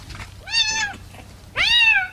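A cat brought to a village vet clinic for vaccination meows loudly twice, close by, each cry long and rising with a short pause between them.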